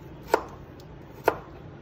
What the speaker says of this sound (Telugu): అన్నీ కట్ చేస్తూ ఉన్నామన్నమాట.